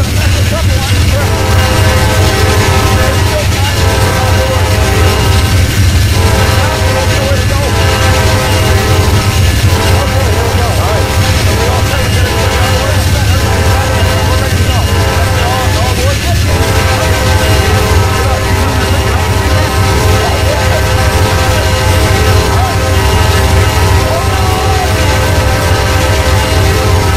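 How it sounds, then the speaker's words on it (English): A passenger train in the Trainz railway simulator game rumbles along loudly and continuously, with a series of horn-like tonal blasts in the first half over the steady engine and wheel noise. "These passenger trains run on a tight schedule."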